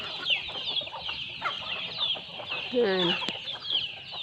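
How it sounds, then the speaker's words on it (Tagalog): Backyard chickens clucking and calling steadily while being fed, with a rooster-like call among them and someone speaking briefly over the flock. "Nagpapakain ako ng manok guys."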